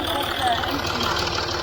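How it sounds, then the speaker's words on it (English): A Land Rover Discovery 3 engine idling with its timing chain ticking, a steady mid-level mechanical hum with faint rapid ticks, heard close up under a person talking. "I hear a ticking here, but I think that's our timing chain"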